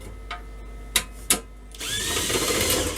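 A power drill takes out screws to remove the cover of a Farnell L30/1 bench power supply: a few sharp clicks and taps, then a steady whirring spin that runs on at moderate volume.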